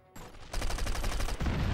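Rapid gunfire in the game Stop! I'm A Cop! Simulator, a dense loud burst of repeated shots with a steady machine-gun rhythm, heard alone.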